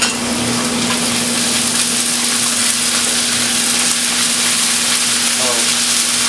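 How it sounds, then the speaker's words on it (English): Onions with ginger garlic paste frying in a pan for a basic onion tomato curry masala, a steady loud sizzle with faint stirring scrapes throughout and a low constant hum beneath. "Now we're gonna add 1 tablespoon ginger garlic paste"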